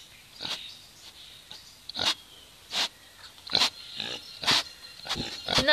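Potbelly pigs on an African farm making wet, slurpy snuffling noises, a series of short sharp bursts at irregular intervals, close and fairly loud over a quiet background.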